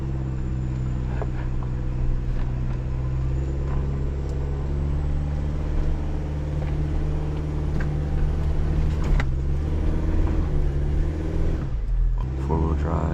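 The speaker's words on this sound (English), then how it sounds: "Put it in first gear since I don't have a low four-wheel drive." A truck engine drones at a steady low pitch in first gear on an off-road track, a loud continuous rumble with occasional creaks and knocks, and a person speaking over it.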